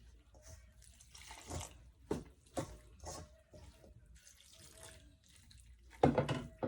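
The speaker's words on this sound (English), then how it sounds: "going to be adding my water" Water poured into a bowl of saltfish fritter batter during home cooking, heard as soft, intermittent splashing and trickling bursts, fairly close and quiet, ending with a louder splash.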